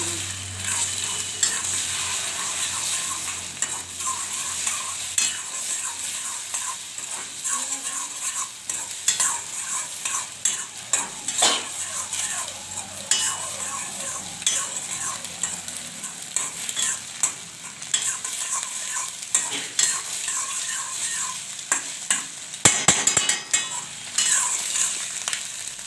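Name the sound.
stirring egg fry with turmeric in frying pan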